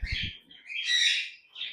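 Pet cockatiel chirping in a few shrill, close calls, including one longer, louder chirp, with a brief low rumble at the start.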